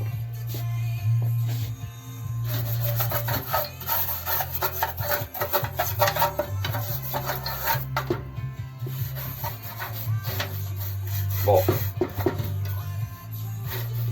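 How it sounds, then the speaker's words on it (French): Hand sanding of a rusty salvaged outdoor metal lantern, a steady close rasping rub that continues without a break, with a constant low hum underneath. "donc je vais continuer de poncer"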